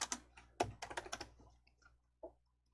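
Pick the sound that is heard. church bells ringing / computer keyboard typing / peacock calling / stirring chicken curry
computer keyboard typing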